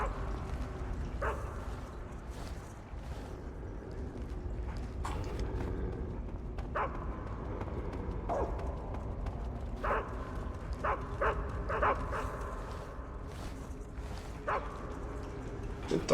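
Dogs bark in the stealth video game Metal Gear Solid 3: Snake Eater, a series of sharp, fairly faint yaps scattered irregularly over a low ambient background.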